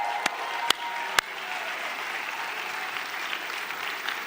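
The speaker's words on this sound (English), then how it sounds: "So give yourself a round of applause for making this happen" An audience applauds steadily after a few sharp, close individual claps at the start, the crowd clapping settling into a moderate, even patter that runs to the end.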